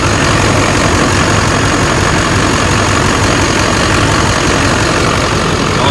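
A Duramax diesel truck engine runs at a steady, loud idle, a constant heavy droning rumble with no breaks or changes across the moment.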